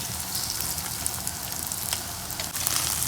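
Cauliflower and egg fry sizzles in a pan while being stirred, a close, steady frying crackle with small scraping accents throughout.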